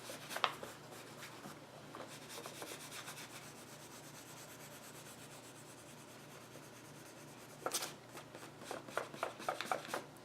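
Coloring on a thin Bible page with short, quiet scratchy rubbing strokes in bursts at the start and end and softer scraping between, close by with no talking.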